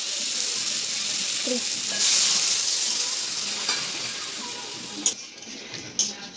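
Water poured into a pan of sizzling tomato and spice masala sets off a loud hiss. The hiss fades over a few seconds and gives way to gentle bubbling and a couple of clinks.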